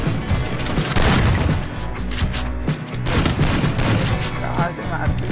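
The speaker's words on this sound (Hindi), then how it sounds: "बे शॉट गन आ गई।" Shotgun and other gunfire in the Free Fire video game, loud dense bursts of shots and booms through the whole clip, with a voice talking faintly underneath.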